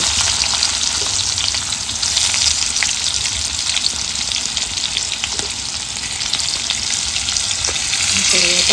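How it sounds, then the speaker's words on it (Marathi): Crushed garlic and onion spit and crackle loudly in hot oil for a tempering. The dense, constant sizzle carries a few faint stirring scrapes and stays close throughout. "आपण ठेचलेला लसूण टाकायचा आता फोडणीला"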